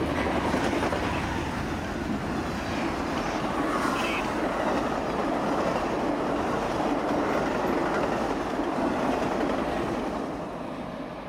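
An Amtrak Capitol Limited passenger train passes a station on the main line, a steady, loud roar of rail cars with rhythmic clickety-clack that holds throughout and eases slightly at the end.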